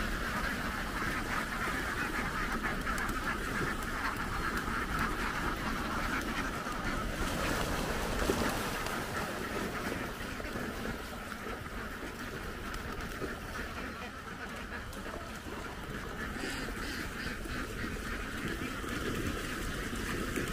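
A large flock of ducks in a duck pen quacks and honks continuously, a dense, noisy chorus filling the scene at close range with no pauses.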